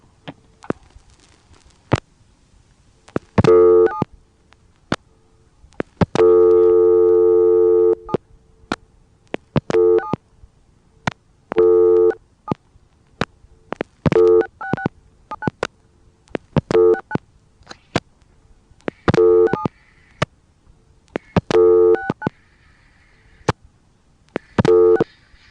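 Dialing through an ITT Pentaconta crossbar switch, with a faulty phone sending extra digits: sharp clicking pulses, short repeated tone bursts and a longer buzzing busy signal, recurring again and again.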